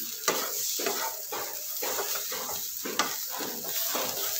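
Bitter gourd frying in oil with curry leaves, coriander and onions, a steady close sizzle broken by rhythmic scrapes and stirs of a spatula against the pan about every half second.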